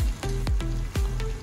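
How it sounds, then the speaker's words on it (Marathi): Masala frying in a pan with turmeric for chicken bhat, a steady close sizzle broken by a few sharp clatters of a stirring spoon, no voices. "ती ॲड करून मस्त ती फ्राय करून घ्या।"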